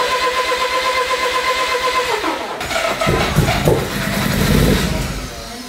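Car engine cranking over repeatedly with the fuel injectors disabled during a Megasquirt Pro install, a steady rhythmic starter churn that stops, then gives way to a louder, rougher burst of engine noise close by.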